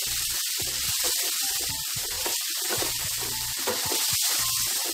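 Ginger garlic paste fries in a pan for brinjal pickle, a steady close sizzle and hiss with rhythmic scraping as it is stirred throughout.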